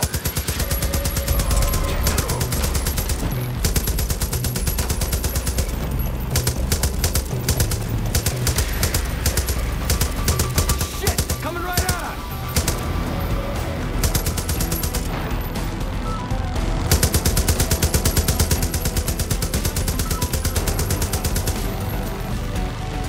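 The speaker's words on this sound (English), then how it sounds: "Get on that big gun in the back." Turret-mounted machine gun firing in Far Cry New Dawn, long loud sustained bursts of rapid automatic fire that continue almost without pause, with brief gaps and faint chirps in the background.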